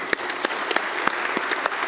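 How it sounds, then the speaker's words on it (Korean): A church congregation claps during an ordination service at a Korean church, a short burst of sharp, rhythmic claps, near and distinct, some hands louder than others. "박수 한번 하겠습니다."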